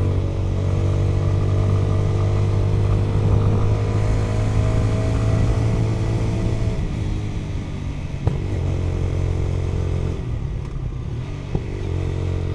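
A motorcycle engine drones steadily at high revs while riding on the road, loud and close throughout, with a slight drop in pitch after the middle and a couple of brief clicks near the end.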